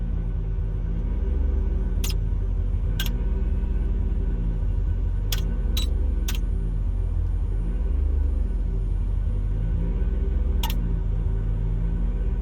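An armored tank's engine in Cyberpunk 2077 rumbles steadily with a deep, loud drone and cyclic surges, punctuated by a few sharp high clicks.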